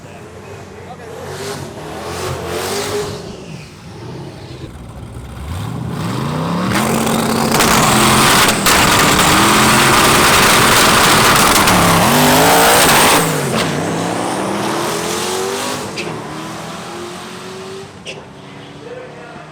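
A rear-wheel-drive Honda Civic race car with a stock block engine makes a pass, its engine climbing hard through repeated upshifts as it nears, roars loudest up close, then fades away, with voices talking around it.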